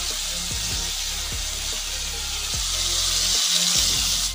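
Mixed vegetables frying in a pan, giving a continuous close, broadband sizzle throughout, with a few low knocks from utensils underneath.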